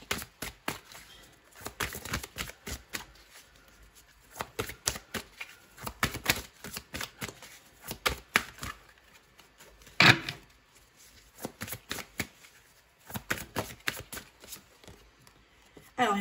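Tarot oracle cards being shuffled by hand, quiet papery riffles and soft flicking bursts in repeated rhythmic runs with brief pauses, close and faint.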